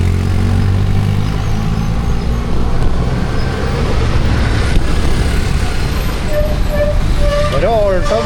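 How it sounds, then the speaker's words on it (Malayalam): A racing car passes along a road by a small town bus stand, its whining engine note rising and falling near the end over a constant loud rumble of traffic. "പോയ സൗണ്ട് കേട്ടോ എന്നിട്ടാണ്ട് റേസിംഗ് കാർ പോണ"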